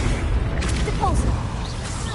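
A Repulsor spell blast in Hogwarts Legacy, a short booming burst with a whooshing release, heard amid other spell effects and game clatter.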